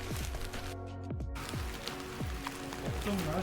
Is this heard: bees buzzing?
no